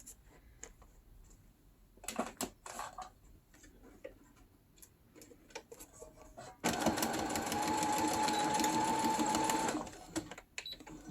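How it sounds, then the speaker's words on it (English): A sewing machine stitches through a paper lapbook in one steady whirring burst of about four seconds, after scattered quiet handling clicks. "I will sew this straight away"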